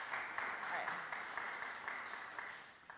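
Congregation at a Sunday worship service applauding the returning organist, a steady dense patter of many hands clapping at moderate distance, fairly quiet, with no voices over it.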